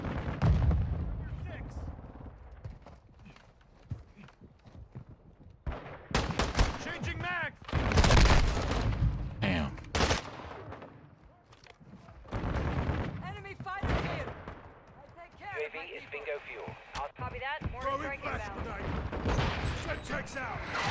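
An M13 rifle firing in a video game: bursts of loud, close gunfire and booming blasts come and go over a low rumble, mixed with excited voices talking.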